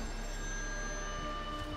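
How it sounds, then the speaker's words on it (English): A telephone rings in the horror game Still Wakes The Deep, set on an offshore oil rig, its bell tone steady and sustained under a low rumbling background hum, with no talking. "Phone's ringing."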